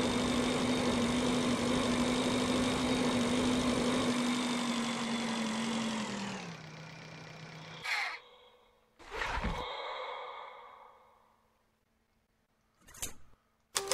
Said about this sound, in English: The engine is installed. Now the tank will probably be able to fly.